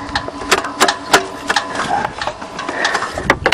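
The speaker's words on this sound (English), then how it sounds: "Since the gear shifter's busted, we'll have to put her in drive." A Buick crushed twice by a 20-ton dozer, engine running and clattering in drive with a busted gear shifter, giving a rapid uneven mechanical knocking and ticking, close and fairly loud.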